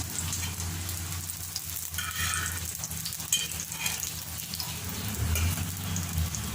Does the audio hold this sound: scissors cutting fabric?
no